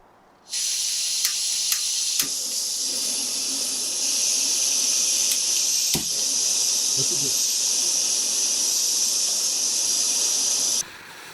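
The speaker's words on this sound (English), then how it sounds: "Let's go ahead and turn on these stoves and compare boil times." A pair of backpacking camp stoves with an ultralight pot burn with a steady, loud, broadband hiss that starts abruptly, holds for about ten seconds with a few small clicks, then cuts off.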